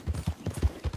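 Horse hooves clip-clop in Red Dead Redemption 2, a quick, even run of close, dull thuds at a steady trotting pace.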